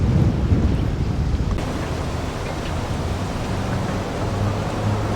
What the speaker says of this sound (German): die Welle vom Nordostpassat, die geht so ein bisschen um die Ecke rum und kommt hier rein quer